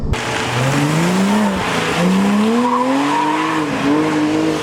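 A Porsche Cayman 987 with the 2.9 engine accelerates through a corner on the road, its engine note rising and dipping repeatedly as electronic stability control cuts power, with tire noise underneath; loud, close and continuous, no talk.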